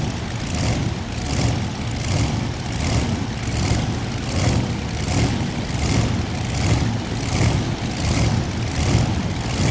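A modified tractor-pulling engine idles with a steady, loud rumble and a regular throbbing pulse, heard up close with no voices over it.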